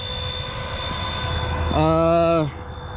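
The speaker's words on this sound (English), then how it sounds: "I got the Lucid RC fans going right now, so the motor fans are super loud" Motor cooling fans on a Losi DBXL-E electric RC truck give off a steady high-pitched whine, loud and close, with a brief voice-like tone rising over it partway through.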